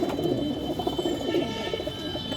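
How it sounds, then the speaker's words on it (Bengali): A flock of Andhra tippler pigeons of mixed colour varieties coos close by in a steady, overlapping murmur of soft low calls that continues throughout. "সব হচ্ছে অন্ধ্রা টিপলার পায়রা।"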